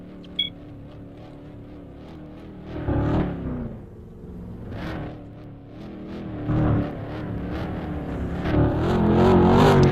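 Race car engines in a video game during a Chilean Grand Prix grid start, a dense, loud, continuous drone of many cars revving and swelling in pitch, building toward the end, with no talk.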